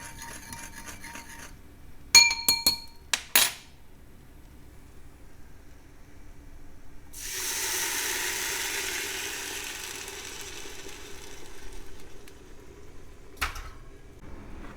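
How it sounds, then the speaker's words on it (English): Stock and tomatoes poured into a pot of coated quinoa for a quinoa chilli, with a few clinks of utensils on the pot, then a sustained rushing pour and sizzle that slowly fades, close up. "we're going to go in with the stock and the tomatoes"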